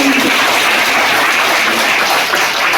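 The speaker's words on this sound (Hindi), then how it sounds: "तो इस कॉन्फिडेंस के लिए भी एक बार जोरदार ताली होनी चाहिए।" Loud, continuous applause from a school audience cheering successful students, a dense wash of clapping hands that holds steady throughout without talk.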